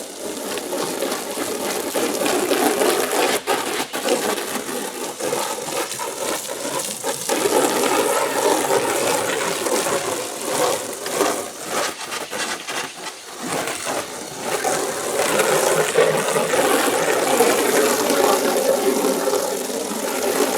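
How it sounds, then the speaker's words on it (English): A hose end sprayer washes down a travel trailer, a steady close hiss and spatter of water spray running continuously with small shifts in intensity as it sweeps across the surface. "Now we start washing it down with this"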